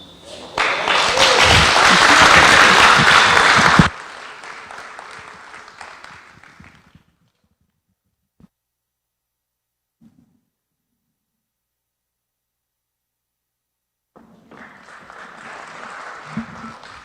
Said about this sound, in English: let's clap for our oldest community leader, Shosho.